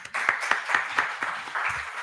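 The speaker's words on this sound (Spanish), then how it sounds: "un fuerte aplauso nuevamente" An audience at a book presentation on Russia and Mexico claps in a soft, fairly even patter of hands that runs steadily for about two seconds, with no voices on top.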